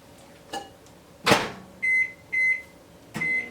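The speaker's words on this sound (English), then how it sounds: "You put it in the microwave." A microwave door thumps shut, followed by three short electronic beeps from its keypad.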